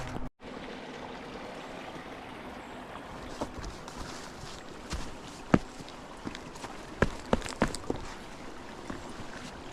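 Creek water rushing steadily during a forest hike, a continuous flowing wash punctuated by sharp footsteps and splashes on stones as a hiker crosses, close to the microphone.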